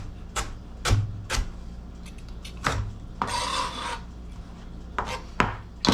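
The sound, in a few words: knife chopping galangal into big chunks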